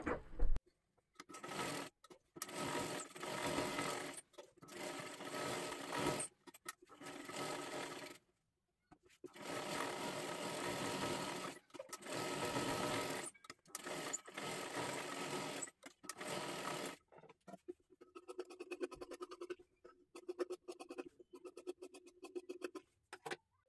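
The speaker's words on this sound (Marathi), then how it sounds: "आता इथे आपल्याला पाठीमागच्या बाजूला सुद्धा पूर्ण शिलाई करून घ्यायचं आहे" A sewing machine stitching the back of a child's kathpadar saree one-piece dress, running in bursts of rapid mechanical rattling separated by pauses, close and clear, with lighter clicking handling near the end.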